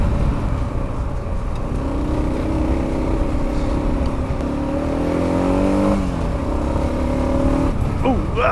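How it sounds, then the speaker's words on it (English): A Kawasaki KLR 650 dual-sport motorcycle engine runs steadily on a mountain ride to a fire lookout in British Columbia, droning loud and close throughout with rising and falling revs near the end. "I could have kept the engine revved and feathered the clutch there"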